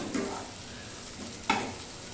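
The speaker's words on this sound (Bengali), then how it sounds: "এই যে আর একটু ভাজবো" Bottle gourd cooking in a pan with onion and ginger paste, giving a soft, steady sizzle of frying, with two brief stirring scrapes standing out near the start and middle, no voices.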